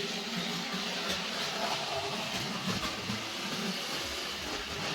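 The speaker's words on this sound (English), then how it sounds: "I'm just watching the train." The No 76 train runs along the track in a continuous rolling rumble with hiss and faint clicks over the rails, steady and fairly near, with no talk.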